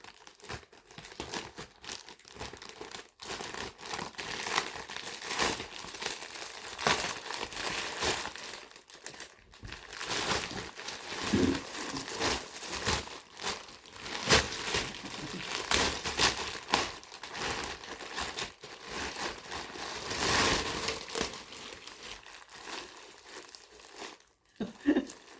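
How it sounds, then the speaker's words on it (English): A large folded, sealed mail packet being cut open and unwrapped by hand, with close crinkling, rustling and tearing of paper and plastic that swells and fades over a long stretch, with no talk. "I think I'm going to have to cut across this bit here"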